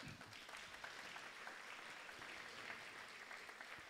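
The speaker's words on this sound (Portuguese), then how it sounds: "Mais uma vez, uma salva de palmas." Applause from a seated audience at a formal ceremony honouring 30 years of the federal public defender's office, a steady, even clapping heard from a distance and fairly faint throughout.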